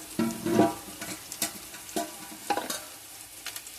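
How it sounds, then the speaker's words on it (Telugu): Onions frying in a pan while a spoon stirs them, with bursts of sizzling and scraping strokes coming in uneven pulses, close and fairly loud. "ఆనియన్స్ వేగుతున్నాయండి, మూత పెడతాం."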